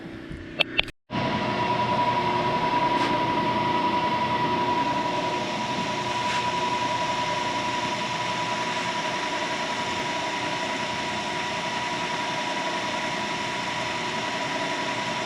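A milling machine cuts a woodruff key slot with an eighth-inch cutter in a Farmall Super C steering part, taking light passes. A steady loud mechanical hum and whine with a faint tone runs continuously after a brief clunk at the start.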